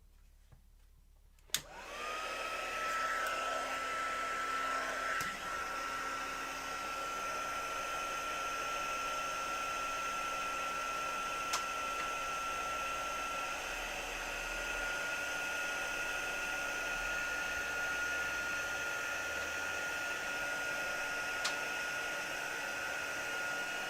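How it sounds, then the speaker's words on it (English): A heat tool switches on with a click and blows steadily over an ink-blended card, a continuous whirring hum with a faint whine that holds almost unchanged for over twenty seconds, alone and without talk. "now we're just gonna heat it up again with the heat tool."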